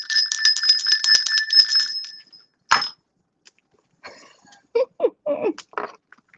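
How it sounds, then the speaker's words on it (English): A small handbell rings in a rapid, bright, close run of strokes for about two seconds and then fades, followed by one sharp clink and a few quiet knocks and handling sounds. "Let's ring this awful bell."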